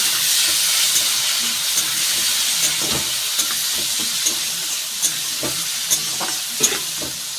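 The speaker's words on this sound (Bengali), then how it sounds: "এইবার দিয়ে দেব পেঁয়াজ কুচি আর টমেটো কুচি। ভালো করে ভেজে নেব।" Chopped onion and tomato hit hot oil seasoned with five-spice tempering and a slit green chilli for a tilapia curry. A steady close sizzle and hiss runs throughout, broken by occasional scraping stir clicks, with no talking.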